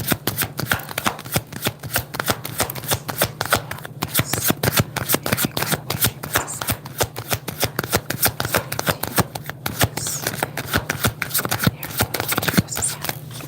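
Rapid, continuous riffling of tarot cards being shuffled, a dense steady flutter of snapping card edges that goes on without pause, up close.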